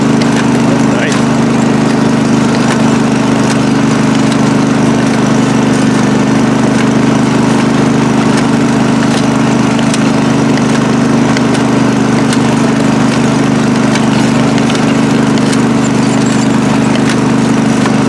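John Deere 185 lawn tractor engine after two years of sitting, running in a steady, loud low drone throughout with faint clicks and rattles above.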